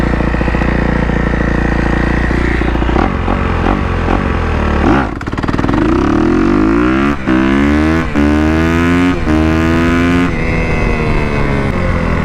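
Motorcycle engine roaring loud and close as it launches hard, revving up and climbing through several quick gear shifts, the pitch rising and dropping with each change; tuned ECU map, ridden for wheelies.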